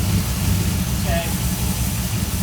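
A 1955 Ford truck engine idles low and rough after being started for the first time in 28 years, a loud steady rumble with a brief squeak partway through.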